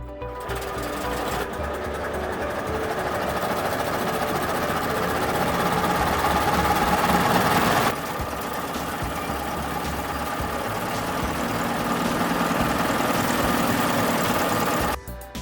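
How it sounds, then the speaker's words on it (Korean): A vintage car's multi-cylinder engine cranked to life by hand with a crank handle, settling into a steady, rapid mechanical clatter that runs continuously and loudly, with a brief break partway through. "여기 크랭크 핸들을 돌려 시동을 겁니다"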